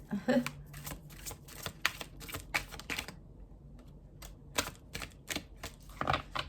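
Tarot cards riffle and flutter in quick, crisp bursts close by, several shuffles in a row with a brief pause between them.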